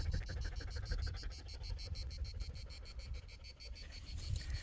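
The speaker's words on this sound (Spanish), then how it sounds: "Canta la chicharra." A rhythmic, pulsing cicada buzz repeats steadily in high, regular bursts, loud and close, continuing without pause over a low background rumble.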